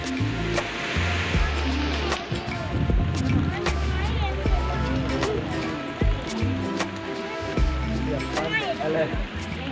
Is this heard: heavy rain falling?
yes